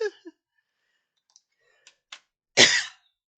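After a few faint clicks, a single short, harsh cough bursts out close to the microphone.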